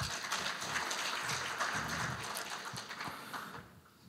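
An audience at an award presentation during the opening ceremony of a transport systems society's autumn conference claps steadily for several seconds, a moderately faint, even patter that tapers off near the end.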